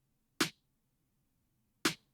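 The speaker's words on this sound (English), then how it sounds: "Snare." Two isolated electronic snare hits, crisp and bright with a quick decay, spaced about a second and a half apart against near silence.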